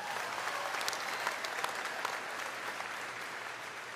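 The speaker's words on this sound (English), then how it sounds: "You can applaud." Steady applause from a large crowd at a men's basketball coach introduction at Arkansas, dense clapping that holds at an even level throughout with a few sharper claps standing out.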